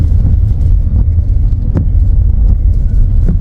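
Ford off-road pickup truck on a rural road in Vientiane, Laos, a loud low engine rumble that stays close, with faint rattles and bumps over the drone.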